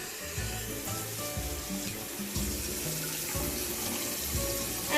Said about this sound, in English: Make sure you wash your hands with warm water so it kills all the bacteria.